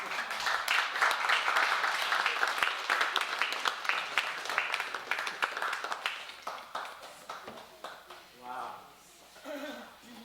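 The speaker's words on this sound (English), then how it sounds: "Let's give Raymond a big applause." A congregation at an intergenerational service applauds for Raymond, a sustained round of clapping that tapers off while voices start speaking toward the end.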